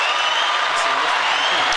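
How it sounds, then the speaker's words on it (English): Podcast hosts clap together, a dense, continuous burst of close hand claps heard alone for a couple of seconds. "Everybody clap it up."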